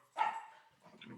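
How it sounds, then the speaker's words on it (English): A dog at home gives a single quick, faint yap near mealtime, followed by a brief low whimper-like sound. "the dogs are yapping"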